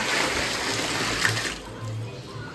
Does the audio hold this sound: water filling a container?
yes